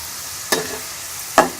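French fries cooking in oil over a slow flame give a steady close sizzle, with two brief stirring scrapes cutting through it.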